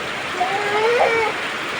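Steady rain falling over a village courtyard in Kishoreganj, a continuous even hiss of close drops with a faint whistle-like tone drifting through the middle.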